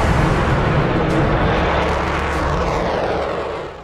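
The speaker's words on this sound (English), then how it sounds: "It's the Vulcan." An Avro Vulcan bomber roars overhead in a dense, loud, broadband jet rumble that stays powerful throughout and eases slightly toward the end, with no voices.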